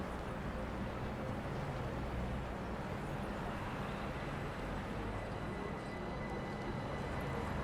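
Mildmay Line train accelerating in Train Sim World 5, a steady, dense broadband rumble of traction motors and wheels on track that stays loud and even throughout, with no talk over it.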